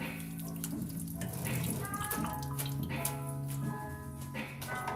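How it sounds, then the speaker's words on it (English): Hot water poured into a pot while cooking chicken curry or tinola, a steady close splashing pour that runs for several seconds beneath a humming background tone. "Then I just put hot water on that."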